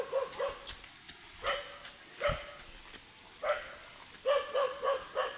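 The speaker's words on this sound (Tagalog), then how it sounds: "Dito, huwag kayo, may aso doon." A dog barks repeatedly near a rural farm field by a river, a series of sharp, moderately close barks in uneven bursts, some clustered quickly together.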